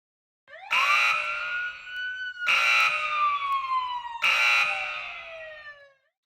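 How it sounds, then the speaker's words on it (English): Three rising-then-falling electronic alarm wails in a video game, each blast starting abruptly and sweeping downward, loud and close with short gaps between them and no talking. "Not good! The alarm went off!"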